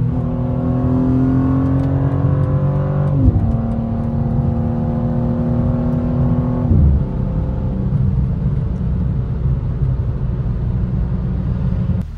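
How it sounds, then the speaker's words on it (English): Close, loud exhaust drone from a modded BMW G87 M2 on a late-night drive, holding a steady engine note that steps down at a couple of gear changes and then settles into a rumbling cruise. "That exhaust is too obnoxious."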